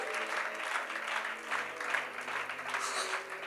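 A church congregation claps hands together, giving a dense, continuous roomful of applause that stays steady throughout with no clear talk above it.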